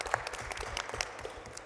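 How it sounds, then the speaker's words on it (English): An audience in a church claps for a choir, a dense patter of many hands at moderate distance, steady throughout with a faint murmur underneath. "Give a round of applause."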